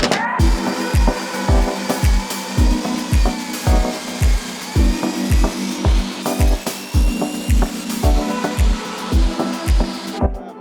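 A power saw rips laminated skateboard wood into 1.75-inch strips: a loud close whine under a steady rhythm of sharp repeated bites, one roughly every half second, with the motor running throughout and no talk.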